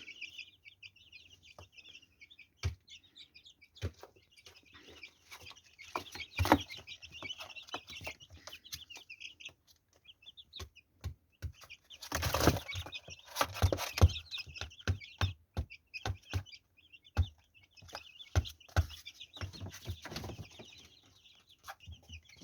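Chicks peep in a steady, busy chorus with scattered clucks and rustling, moderately close, plus occasional bumps and wing flutters.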